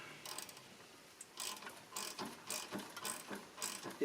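A number 10 socket wrench ratcheting out a plug on a TroyBilt 2600 PSI pressure washer: faint, quick, evenly spaced metallic clicks in short repeated strokes, close up, with no talk.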